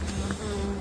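Honeybees on a hive frame of honey and grey pollen give a brief, continuous, low buzzing hum, with no voices.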